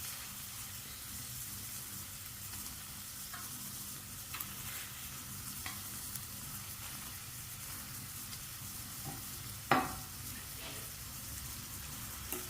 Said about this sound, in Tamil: உருளைக்கிழங்கும் முட்டையும் நல்லா ரோஸ்ட் ஆகும்